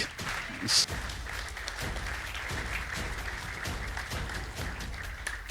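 Audience applause rings out at a Christian gospel talk show, a steady wash of many hands clapping that holds at an even level for several seconds, with a slightly louder burst near the start.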